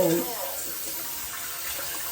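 Cold water runs steadily from a tap, a continuous broad splashing rush that stays even and close throughout, with a brief voice at the start.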